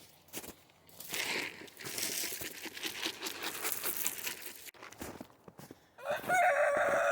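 Roosters and chickens around an off-grid coop: a rooster crows loudly near the end, with scattered clucking, rustling and scratching throughout and no talking.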